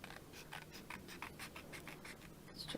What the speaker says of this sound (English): So let's just trim around here, and you can use your scissors, you can use a craft knife if you find it easier.